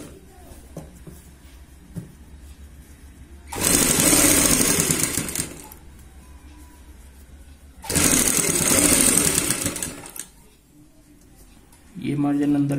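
A sewing machine stitches along a kurti neckline in two loud, steady whirring runs of about two seconds each, separated by quieter handling sounds and a voice.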